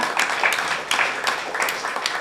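Audience applause at a Tamil cultural talk event, loud bursts of clapping rising and falling in several waves over a couple of seconds, close and full.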